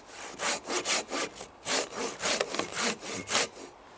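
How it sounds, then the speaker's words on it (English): A Silky BigBoy 2000 hand saw cuts through a tree branch in quick, regular back-and-forth strokes, about a dozen rasping pulls close up with no talk. "I think it's pretty effortless sawing in this one."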